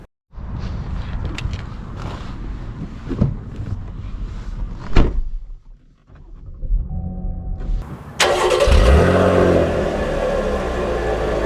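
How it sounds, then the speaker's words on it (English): A Chevy Camaro V6 with a manual gearbox starts up, with a door thud and cabin rustling first, then the engine catches and settles into a steady close hum as the car begins to move off. "let us set off in the Camaro V6 with the manual"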